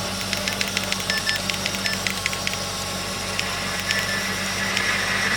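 A 2011 Chevrolet Tahoe engine idles steadily and quietly while parked in a state park, a low continuous hum with faint ticking and clicks on top, no talking.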